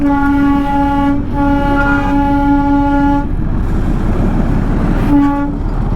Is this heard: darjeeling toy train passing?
yes